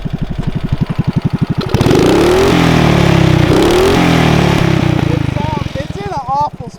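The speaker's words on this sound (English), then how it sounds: "give it a rev," A Trailmaster Mid XRX-R engine sits in neutral, first chugging at a loud idle, then revving hard into a sustained high-pitched whine that drops back down, with the revs easing off at the end.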